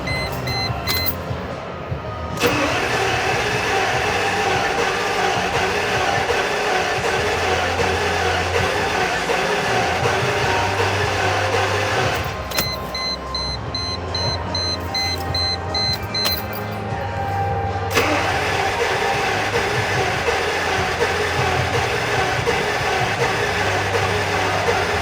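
Mercedes SL600 engine cranking on a new fuel pump, fed from a gas can after sitting for years: a loud, steady mechanical churn that runs almost unbroken for the whole stretch, with short pauses between attempts.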